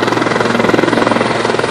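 Helicopter at East Hampton Airport, a steady loud rotor drone with a fast even chop running through the whole stretch, close and unbroken.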